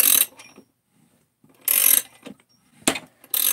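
A socket wrench ratcheting on bolts, heard as several short, close clicking bursts separated by brief silences.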